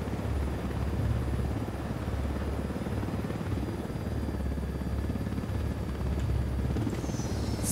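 A drone flies in the video game Ghost Recon Wildlands, giving a steady, loud whirring rotor drone that holds evenly without a break, alone and with no talk over it.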